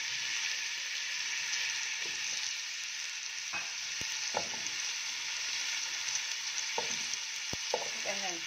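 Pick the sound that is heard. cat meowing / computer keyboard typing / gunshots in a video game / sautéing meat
sautéing meat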